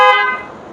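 A car horn being tested gives a single short, bright honk, loud and close, that cuts off quickly and leaves a fading ring.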